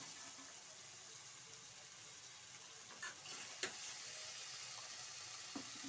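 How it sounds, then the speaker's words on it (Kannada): Pigeon peas (togari) sizzle and fry steadily in hot oil, a soft continuous crackle with a few brief stirring clinks and scrapes near the end. "ಸ್ವಲ್ಪ ಫ್ರೈ ಆಗಲಿ ಕಾಳೆಲ್ಲ ಎಣ್ಣೆಯಲ್ಲಿ."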